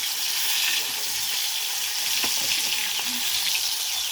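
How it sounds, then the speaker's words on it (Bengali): Chicken pieces rubbed with ginger, cumin, turmeric and salt fry over a clay stove, giving a steady, close, fairly loud sizzle throughout with a few faint stirring clicks and no talking. "লাল করে ভাজবো। আমি মাটির উনুনের মধ্যে রান্না করছি।"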